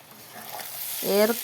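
Fish cooks in a pan with onion and green chili, giving a faint, soft sizzle that is briefly joined by a short voice near the end.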